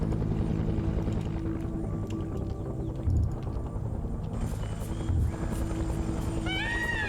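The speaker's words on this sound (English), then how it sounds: "these guys hear that chopper, so they're gonna follow that puppy in." Helicopter in the video game Arma 3, a steady rotor drone under dense game battle ambience, with brief louder thumps and rising whines near the end.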